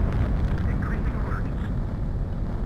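A fighter jet in Ace Combat 7 throttles up for takeoff, its engine producing a loud, steady roaring rush that holds constant, with a voice talking over it.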